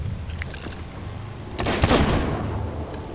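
Video game gunfire aimed back at a sniper on top of a fort: a short, loud burst of shots with a mechanical clatter, after a quieter stretch with faint metallic clicks.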